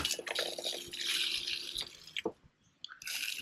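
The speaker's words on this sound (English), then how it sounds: "Taps are off, water's coming out." Water trickling and splashing from a caravan tap that is turned off, an uneven running flow with drips and small gurgles, close and fairly quiet, briefly dying down before resuming.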